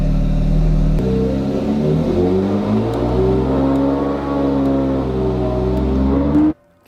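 A flood-damaged Porsche 911 GT3 RS engine runs steadily and loudly up close, its deep mid-range drone and layered harmonics holding for several seconds before cutting off abruptly near the end.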